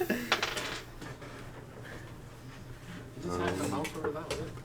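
Dice drop and clatter onto a homemade dice-catching table during a tabletop role-playing session, several rattling bursts of hard tumbling clicks, close, with people talking over them.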